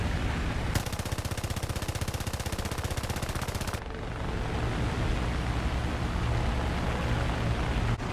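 Aircraft machine guns in War Thunder fire a dense rapid burst for about three seconds over a constant roar of engine and wind noise, which carries on alone after the firing stops.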